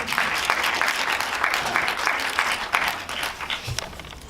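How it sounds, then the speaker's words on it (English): Audience applause at a Q&A screening night in Sydney, a dense steady patter of many hands clapping close by, holding fairly even throughout with no talk over it. "Give yourselves a round of applause"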